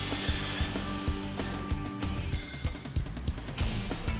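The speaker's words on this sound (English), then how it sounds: "Occasionally, the cuberman must saw them by hand," Cedar shake blanks sawn by hand at a shake mill, with a steady run of rhythmic, rasping saw strokes over a constant mechanical hum from nearby mill machinery.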